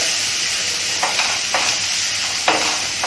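Finely chopped onions fry in a pan toward light brown, a steady close sizzle and hiss with a few scraping stirs of the spatula.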